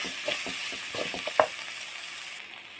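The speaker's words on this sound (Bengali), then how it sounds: "আমি এই যে গরম মশলাটা একটু অ্যাড করব সামান্য পরিমাণে। একটু লাড়াচাড়া দিয়ে নেব।" Shrimp fry in a pan with garam masala, a steady close sizzle broken by several soft scraping stirs and one brief clink.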